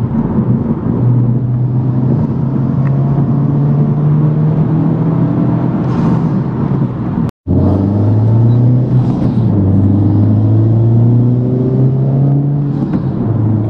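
A 2021 Honda Civic Type R engine rumbles and climbs in pitch as it accelerates hard to overtake, with a brief cut in the middle, then revs rising again.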